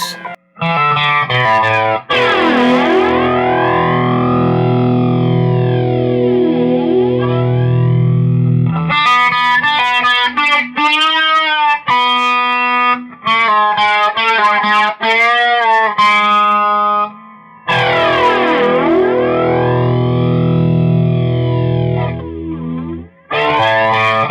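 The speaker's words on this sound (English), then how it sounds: "I put the flanger on. I'm going to add a touch of reverb to it and just do the flanger." Electric guitar drenched in a sweeping flanger with reverb, sustained chords swooshing up and down alongside a run of picked notes, loud and continuous.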